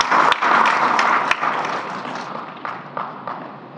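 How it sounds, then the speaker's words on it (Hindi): Loud applause from a crowd at a Gahoi Samaj community gathering, dense clapping that starts strong and slowly tapers off over a few seconds, with a few sharp claps standing out. "इसलिए आप जोरदार तालियां बजाएं"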